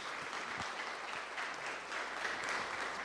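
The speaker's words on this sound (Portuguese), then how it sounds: "dê uma forte salva de palmas para o Senhor Jesus." Church congregation giving steady, dense applause at a Friday service, heard a little distant and quiet, continuous for the whole stretch.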